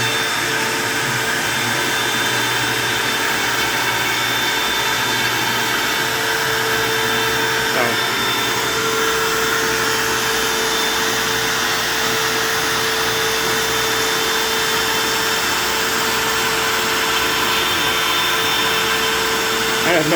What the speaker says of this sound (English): kick the dust collector, turn your router on, hit play,